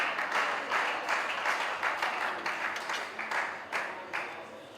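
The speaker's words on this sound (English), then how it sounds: "Please let's clap her." Audience clapping for a 14-year-old student finalist at a spelling competition, a steady patter of many hands lasting several seconds at moderate volume with no speech.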